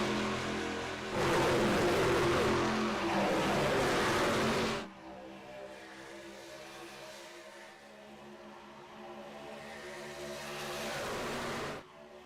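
Race cars thunder past at Talladega in a loud, roaring pack for several seconds, then the engine noise drops to a steadier, more distant drone before a second swell rises briefly near the end; no talking.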